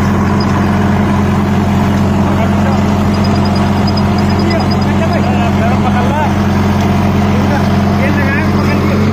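A Sonalika DI 35 tractor with a 7 ft rotavator runs under heavy load in firm ground, its loud, steady diesel drone unbroken throughout, while people talk over it.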